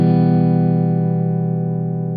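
A single sustained chord from the UJAM Virtual Guitarist Cinedream guitar plugin rings out with a soft, rounded onset and fades gradually over a couple of seconds.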